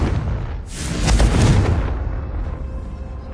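A Confringo spell detonates in a Hogwarts game, a single loud blast that swells into a rumbling boom for about a second before tailing off into a fading low roar.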